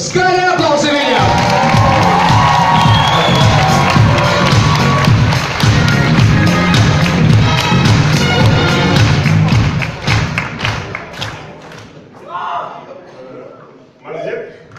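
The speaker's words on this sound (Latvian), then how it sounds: "Skaļi aplausi viņam!" A crowd at a public event, with the event director being introduced, erupts in loud cheering, whoops and thumping for about ten seconds, then fades into scattered noise and speaking voices.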